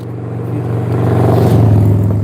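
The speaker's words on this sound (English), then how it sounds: "Oh, a lot of motorcycles today." On a quiet rural road in New Brunswick, a motorcycle passes with a rising, rumbling engine that grows steadily louder and stays close.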